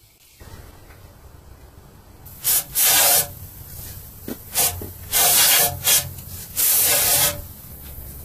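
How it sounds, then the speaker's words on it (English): Steady background noise, then several loud bursts of aerosol cleaner hissing in short and longer blasts around the EGR opening of a Suzuki Forenza engine, with faint brushing between them. "we may as well spray and brush the whole area around the EGR opening"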